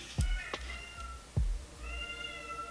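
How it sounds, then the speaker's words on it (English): A pet cat named Pearl meows off somewhere below, with a couple of short meows amid light indoor room noise and no talking. "my cat is meowing down there"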